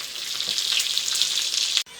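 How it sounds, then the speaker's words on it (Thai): Loud, close sizzling of shrimp frying crisp in a pan, a steady crackling hiss that cuts off abruptly near the end. "กระทะนี่กระทะสุดท้ายแม่เขาจะลากนานหน่อยให้กรอบหน่อยนะครับผม"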